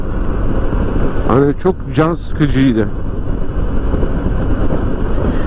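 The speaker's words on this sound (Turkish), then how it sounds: "E bir de rüzgar da var." Wind rushing past during a ride on a Suzuki Burgman 200 scooter gives a constant loud roar of buffeting while someone talks over it.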